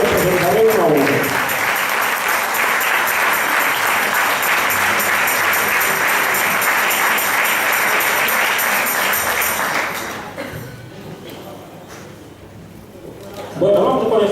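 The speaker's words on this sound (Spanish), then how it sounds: "aplauso para nuestra rondalla" Sustained audience applause for a rondalla string ensemble at a Christmas concert, a dense, loud wash of clapping that suddenly drops away near the end before a voice begins.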